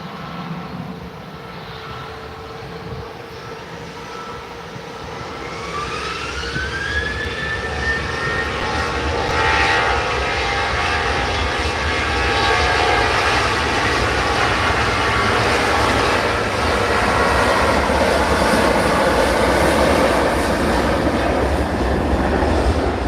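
A TUI Boeing 737 airliner roars down runway 23L on departure from Manchester Airport, a loud sustained jet engine rumble that swells and holds steady with a rising whine partway through.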